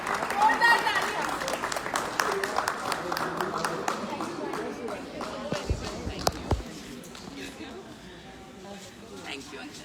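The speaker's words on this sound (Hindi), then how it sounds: "तो जोरदार तालियां एक बार।" An audience claps loudly to welcome guests at an event, a dense burst of applause that swells early and gradually thins out, with speech running over it.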